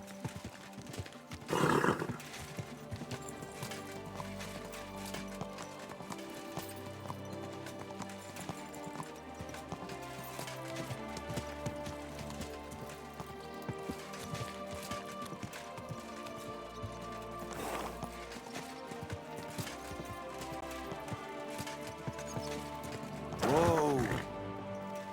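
Horse hooves clip-clop steadily in the medieval game Kingdom Come Deliverance 2, running under continuous game music with a couple of brief louder bursts that may be whinnies.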